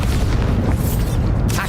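Bombarda spell blast in Hogwarts Legacy, a dense booming low rumble filling the short moment with steady loud energy and a brief crackling burst near the end.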